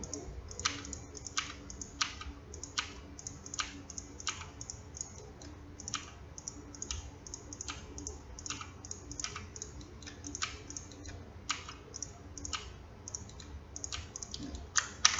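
A computer keyboard clatters with quick, irregular keystrokes and shortcut presses while working in Blender, crisp and close, with brief pauses between bursts and no talking.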